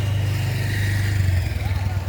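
A motorcycle rides by at a large residential town in the afternoon, a steady low engine drone with a throaty pulse that eases off partway through, fairly close and continuous.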